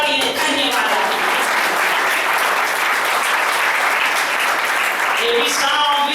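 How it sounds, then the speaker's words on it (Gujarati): A church congregation breaks into sustained applause, a dense, even wash of many hands clapping together for several seconds, with a voice faintly over it near the end. "તાળી પાડીને ધન્યવાદ આપો."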